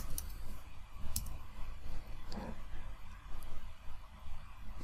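Several sharp computer mouse clicks while browsing an Amazon product search on a PC, close and fairly faint, spaced unevenly over a quiet room hum with no talking.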